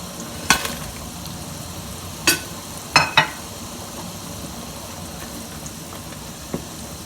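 Pakoras dropped into Punjabi-style kadhi and stirred, a soft bubbling sizzle under several sharp knocks and clatters of a spoon against the pot, heard close with no talking.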